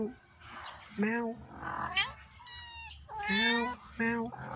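A cat with newborn kittens meows indoors at home: repeated short, close, high calls in uneven bursts with brief pauses between them.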